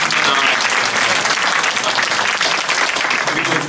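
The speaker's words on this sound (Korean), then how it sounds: "다시 한번 박수 한번." Audience applause fills a worship conference hall, a dense, steady wash of many hands clapping at full volume throughout, with no pauses.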